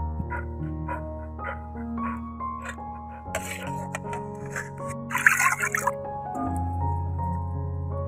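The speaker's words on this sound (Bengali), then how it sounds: "মাছটা সিদ্ধ হয়ে গেছে, এবার ভালো করে ধুয়ে নেব।" Boiled dried ribbon fish rinsed in cold water in a kitchen, with soft drips, splashes and wet squishing of fish being handled, fairly quiet, alongside a steady low background hum.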